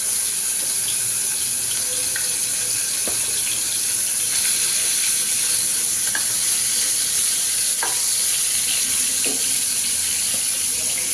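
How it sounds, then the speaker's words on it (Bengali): Shing fish frying in oil, a loud, constant hiss of hot oil running throughout with occasional faint clicks and pops, no voices. "প্রথমে শিং মাছগুলো দিয়ে দিচ্ছি, শিং মাছটা ভেজে এরপর ওই তেলে পাঙ্গাস মাছটা ভেজে নিব"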